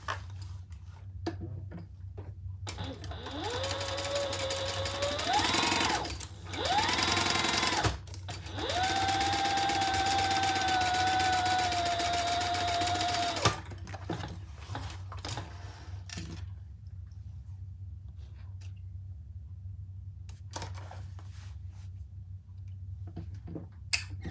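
A sewing machine stitches a crossbody bag in several steady whirring runs with short pauses between them, close and clear, followed by quieter handling noises.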